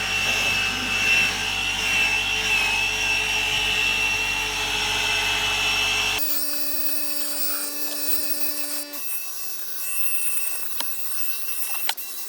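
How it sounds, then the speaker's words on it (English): A Ryobi cordless drill brush whirs continuously as it scrubs the dirty interior of a smoker's car, with a steady high motor whine that shifts in pitch midway and carries faint rubbing and knocks. "this is my Ryobi drill brush"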